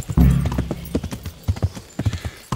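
Horse hooves clip-clop in Kingdom Come: Deliverance, a brisk irregular run of close, fairly loud thuds, with a brief snort or whinny near the start.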